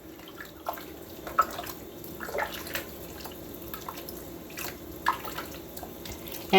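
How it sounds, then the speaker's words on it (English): Chicken cooking water is poured into a pot of butternut squash soup, a steady close splash and trickle with a few brief clinks, and a voice speaks a few words over it. "I'm going to grab the water that I cooked my chicken, and I'm going to just put it in here"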